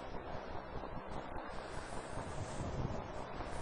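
Strong wind gusting up to about 40 knots over a fast-moving sailboat in building waves, a loud, roaring rush buffeting the microphone with surging swells of water noise.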